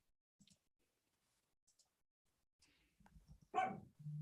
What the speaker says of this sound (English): some little dogs in the background